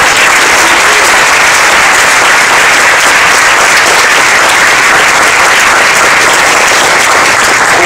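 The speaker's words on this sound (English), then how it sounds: "If we could give her an applause." Sustained, dense applause from a large audience at a medical leader's formal remarks, loud and steady for the whole stretch with no pauses and no speech over it.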